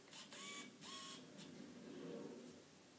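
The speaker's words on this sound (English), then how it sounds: "you'll hear the camera when it focuses" Faint, quick whirring buzzes from a camera lens motor autofocusing, two short bursts followed by a softer one against quiet room hiss.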